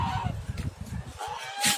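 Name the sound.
domestic goose honking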